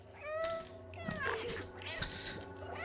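A cat meows repeatedly in the video game Stray, several short, close, clear meows over soft background game ambience, with no voices.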